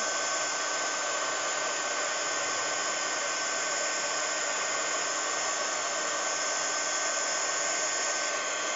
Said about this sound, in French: le pistolet à chaleur, il va permettre de fixer la poudre